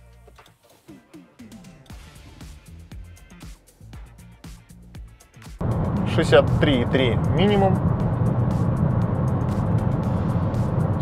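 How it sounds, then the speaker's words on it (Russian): A 2023 Changan CS35 Plus sits quiet while someone speaks in the cabin, then its engine starts abruptly and settles into a steady, moderately loud idle hum beneath his voice. "И теперь заводим двигатель."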